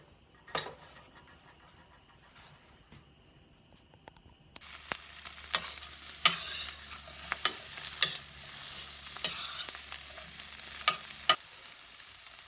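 Onion pieces, about 2 centimeters across, hit a hot pan after a few quiet seconds and then fry with a loud, steady sizzle, punctuated by sharp stirring scrapes and clinks.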